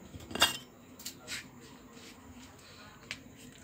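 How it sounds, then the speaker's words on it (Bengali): A knife cuts through a raw potato for frying in a home kitchen, giving a few sharp, close clicks and scrapes spaced out over a quiet background. "তা চলো আলুটা কেটে নিই"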